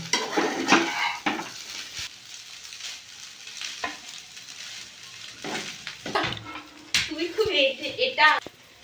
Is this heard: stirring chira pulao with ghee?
yes